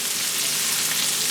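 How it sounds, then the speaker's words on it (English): Mushrooms and onions cooking down in bacon grease in a pan, giving a steady, dense, close sizzle that fills the whole moment without talk. "this is what we have when the mushrooms and onions cook down."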